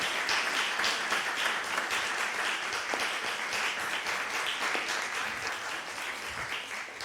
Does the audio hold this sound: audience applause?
yes